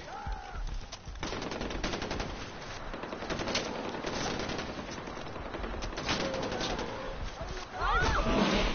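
Automatic and single gunfire from the video game Far Cry 4 rattles in dense, continuous bursts, loud and close, with game ambience and bird calls mixed in.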